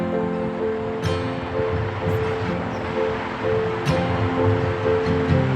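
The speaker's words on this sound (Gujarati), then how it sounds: "આપણે કારેલાને હલાવી લઈશું." Whole bitter gourds coated in gram-flour batter are stirred in a pan, making a steady sizzle with a few light spatula clinks scattered through.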